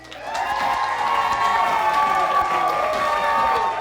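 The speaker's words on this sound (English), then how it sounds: "Ladies and gentlemen, clap and scream from like crazy" Parents in a school audience at Lake Air Montessori Magnet school in Waco clap and scream together in a loud, sustained burst of applause and cheering that swells quickly and holds steady throughout.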